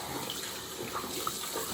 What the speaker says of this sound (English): washing that down. Just get my hands wet